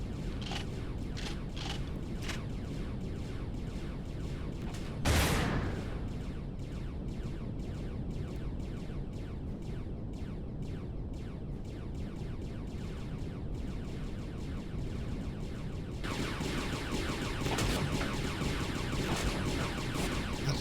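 Sustained automatic gunfire aimed at an enemy turret in Empyrion Galactic Survival (Reforged Eden 2), rapid mechanical bursts running steadily for about twenty seconds, with a sharp loud blast near five seconds and denser fire toward the end.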